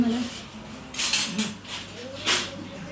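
A metal spoon knocks and scrapes against a pressure-cooker pot of soft cooked dal, giving a few faint clinks and stirring sounds over a low background hum.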